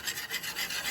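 A short burst of rhythmic scraping strokes as cornstarch batter for eggplant is beaten in a bowl, faint and close, with no voices.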